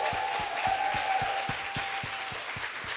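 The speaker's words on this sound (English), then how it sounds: "give a giant round of applause to our panelists" A conference audience applauds panelists at the close of a brand-building masterclass session in Orlando, a steady wash of many hands clapping under loud, sustained noise with a faint tonal hum running through.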